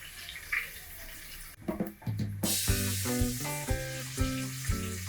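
Onion tipped into a pan of cooked garlic, a chicken keema and shevali dish, sets off a sudden loud sizzle that keeps frying steadily, with stirring scrapes mixed in and a quieter hiss before it.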